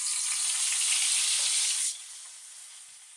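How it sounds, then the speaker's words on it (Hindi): Onions hit hot cooking oil in a pan for a dhaba-style moong dal, setting off a loud, steady sizzle that holds for about two seconds and then drops to a softer, continuing fry. "कुकिंग ऑयल हमारा अच्छे से गर्म हो चुका है। अब हम प्याज ऐड करेंगे।"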